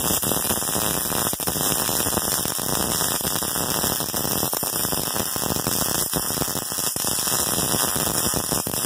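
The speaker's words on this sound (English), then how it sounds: "So get this welded on there." Arc welding a steel shield piece onto a sword fullering jig in a workshop, giving a loud, steady crackling hiss with a constant hum underneath, unbroken for the whole stretch.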